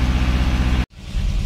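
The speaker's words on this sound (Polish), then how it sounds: "jak chodzi na wolnych obrotach" An FSO Polonez car engine idles steadily nearby with a low, even rumble, broken by a brief dropout partway through before the idle resumes.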